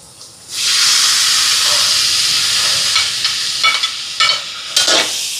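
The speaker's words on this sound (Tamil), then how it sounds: "வெங்காயம் வதங்கிட்டு பாருங்க இனி இஞ்சி பூண்டு பேஸ்ட்டை சேர்ப்போம்" Onions sizzle loudly in a large cooking pot with ginger garlic paste, a close, steady frying hiss with a few sharp bursts of stirring near the end, no voices.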